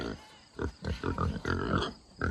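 Pigs grunt in short, close bursts inside a backyard homestead enclosure they share with goats, with the snorts coming irregularly at moderate loudness and no speech over them.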